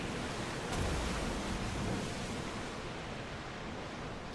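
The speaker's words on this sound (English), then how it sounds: "These swells built in, these waves are huge." Ocean swells and waves wash past a sailing ship in the video game Assassin's Creed Odyssey, a steady broad hiss of surf and wind at moderate level, with no talk.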